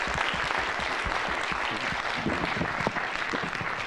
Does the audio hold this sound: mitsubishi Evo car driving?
no